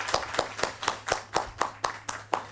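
Conference audience applauding to thank a professor after his talk: a steady, even run of about ten sharp claps across the room, fairly close and moderately loud, with no talking over it.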